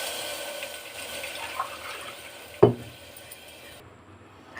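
Water is poured into a cooking pan holding fried tempering spices and curry leaves for a semolina (rava) dish. A continuous splashing pour is broken by a sharp metallic clank near the middle, then fades.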